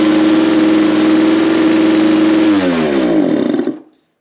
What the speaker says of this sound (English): I start the bike and it instantly just tries to redline itself